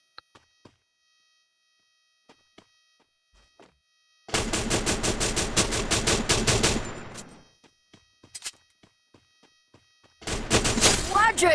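Rapid automatic gunfire in the video game Free Fire, two loud sustained bursts separated by near silence dotted with a few isolated distant shots and clicks.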